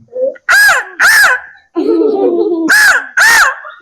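Four harsh, loud crow caws come in two quick pairs, with a lower drawn-out vocal sound between them, much like a person mimicking a crow.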